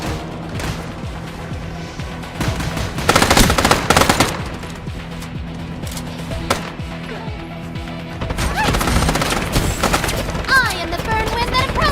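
Rapid gunfire in the Stirnova video game: dense automatic bursts and crashing impacts, loud and continuous with brief lulls, mixed with game effects and a voice talking in places.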